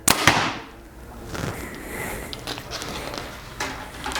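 A Mathews V3X 33 compound bow looses an arrow with a sharp, close snap at the start, then a softer thud and faint rustling follow in a quiet outdoor setting.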